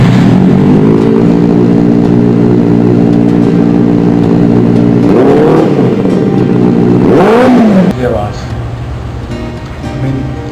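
A motorcycle engine revs loud and close, a steady throaty idle that swells into two rising revs before dropping away.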